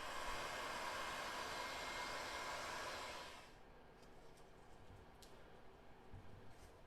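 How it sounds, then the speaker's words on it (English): Heat gun blowing over heat shrink on speaker wire connections during a Toyota Sienna radio install, a steady loud airy whoosh for about three seconds, then cutting off to quiet handling noises. "we're going to shrink them down with a heat gun"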